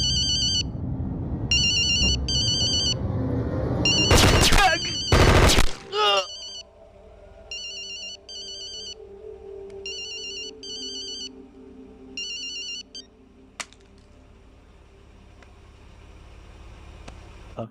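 A telephone rings repeatedly in bursts of electronic trills within a dramatized 26/11 attack scene, with a loud burst of rapid gunfire partway through and dramatic background sound beneath, the ringing continuing afterward over quieter ambience.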